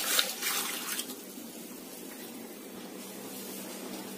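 Tamarind water is poured into a clay pot, a brief splashy hiss of liquid that is loudest at the start and then settles into a faint, steady trickle.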